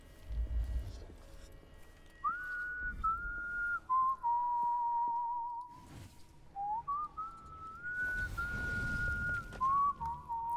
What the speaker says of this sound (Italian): Fischia, fischia.